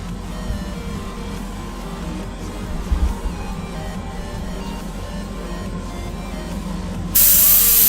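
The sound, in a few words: airbrush spraying primer onto vases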